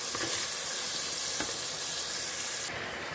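Onion, tomato, green chilli and ginger fry in a pan for chicken pulimunchi, making a loud, dense, close sizzle with light stirring that drops in level just before the end.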